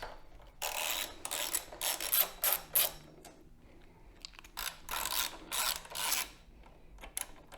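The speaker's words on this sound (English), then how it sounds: "we're going to remove these two 5mm bolts here. And we're also going to loosen this 12mm bolt" Ratchet clicking in several quick bursts, close and crisp, as 5mm bolts are removed and a 12mm bolt is loosened on a Yamaha MT-07 motorcycle during air filter work, with no talk.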